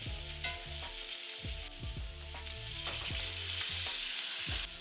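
Steady, close sizzling of steak searing in a pan with butter spooned on top, a continuous bright crackle broken by soft clunks of the spoon against the pan.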